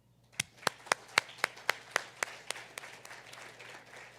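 A small audience at a university president's lunch claps, starting with a few sharp, distinct claps that soon blur into light, scattered applause before fading.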